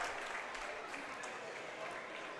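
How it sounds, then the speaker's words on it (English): Crowd noise at a girls' high school basketball semifinal, Shakopee at Chaska, a steady wash of cheering and applause at moderate distance that holds level throughout. "The crowd has definitely come alive here at the Hawks Nest."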